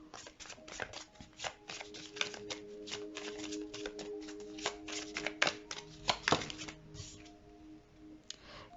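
Tarot cards are shuffled close by for a card reading. Quick papery flicks and snaps come in an irregular clattering run, with a few sharper taps among them.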